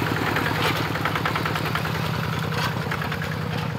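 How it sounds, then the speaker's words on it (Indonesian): A plough tractor engine runs steadily near a rice field, a close rhythmic chugging idle with even low-pitched pulses and a slight vibrating rattle, without speech. "Mesin bajak, mesin bajak."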